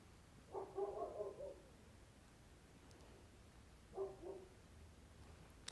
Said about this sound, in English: The dogs are barking right outside the window